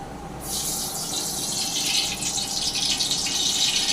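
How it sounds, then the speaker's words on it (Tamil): Cooking oil poured into a large pot on a lit gas stove, a steady broadband pouring rush that starts after a brief pause and continues loud and close to the end, with no talk. "எண்ணெய் ஊற்றிடலாம்"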